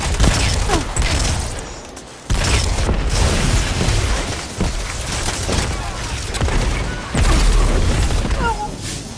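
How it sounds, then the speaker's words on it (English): A grenade and heavy gunfire in Destiny 2 Crucible multiplayer, with repeated loud blasts and rattling shots in quick bursts across the whole stretch, close and punchy, over busy game effects. "That grenade wasn't really near me"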